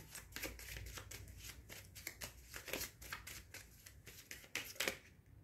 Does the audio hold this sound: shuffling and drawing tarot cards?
yes